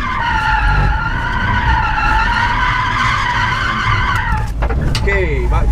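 A car drifting on a track with a long, loud tire squeal and a revving engine, close by, and a person talking over the noise.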